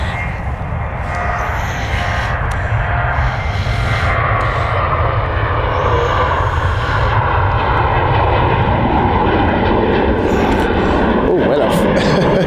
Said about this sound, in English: Really early takeoff from Ryanair.